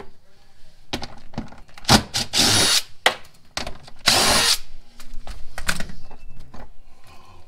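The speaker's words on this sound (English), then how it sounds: "we remove the 10 mil bolts" A power tool whirring in short repeated bursts while removing 10 mm bolts from a Mercedes W203 front bumper, close and loud with brief pauses between runs.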